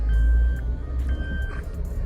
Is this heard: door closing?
no